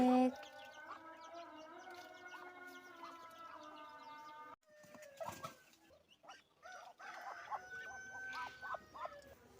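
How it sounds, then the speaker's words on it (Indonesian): Ducks clamour at feeding time, a dense chorus of overlapping quacks and honks close by, with a brief lull before the noisy flock picks up again; no speech in the clip. "Waktunya kasih makan bebek."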